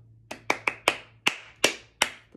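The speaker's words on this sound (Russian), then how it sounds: "Мы сначала хлопаем эту мелодию" Hands clap out a melody's rhythm in a solfege lesson, seven close, crisp claps in an uneven pattern over a faint low hum.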